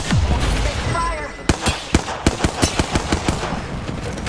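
Bursts of automatic gunfire in the Apex Legends battle royale shooter, a rapid string of sharp, close cracks after a short swell of game noise and a brief voice.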